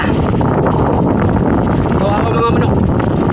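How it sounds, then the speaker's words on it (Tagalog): Strong wind gusts buffet the microphone in a steady, loud roar, with a storm battering a rural area where huts are being wrecked; a faint rising whistle and scraping come through midway. "malakas ang hangin"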